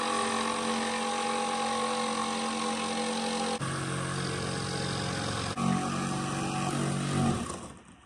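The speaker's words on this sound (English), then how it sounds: "I do good work with the Sawzall." A Sawzall reciprocating saw cuts material for a DIY AC unit cover as a steady, loud motor drone with a buzzing, harmonic edge. It runs close and continuous, shifts pitch briefly twice, then winds down at the end.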